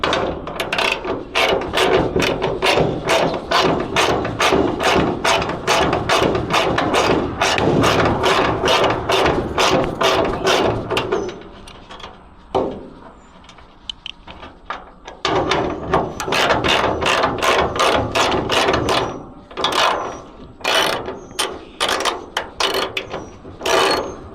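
A ratchet wrench works on bolts underneath a vehicle, loud and close, with long runs of rapid clicking, a brief pause around the middle, then more bursts of ratcheting.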